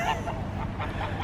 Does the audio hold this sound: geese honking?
yes